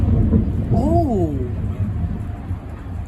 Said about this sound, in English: That was some deep thunder.